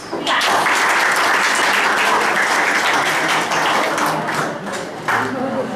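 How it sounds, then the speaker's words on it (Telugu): Sustained applause from a classroom of students, a dense steady clatter of many hands clapping for a student who stood up to answer, fading slightly near the end. "ఫస్ట్ తనకి క్లాప్స్."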